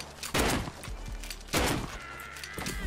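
Two loud, booming shotgun blasts from the survival game Rust, each a sharp crack with a rumbling tail, spaced about a second apart and followed by a fainter third report, with no talking.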